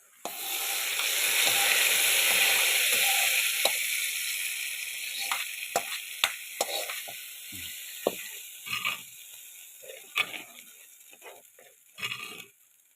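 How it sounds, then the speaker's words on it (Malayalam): Mustard seeds and curry leaves hit hot oil with a loud, dense sizzle that fades after a few seconds into scattered pops and crackles. "കടുകും കറിവേപ്പിലയും വറുത്തിടണം"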